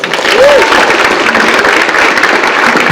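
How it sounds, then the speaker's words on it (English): School audience applauding their principal, a full, loud wash of clapping throughout with a brief voice rising over it near the start. "Give him one more round of applause."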